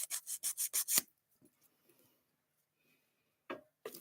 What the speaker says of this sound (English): You're gonna need some hand filing to make that bad boy look good.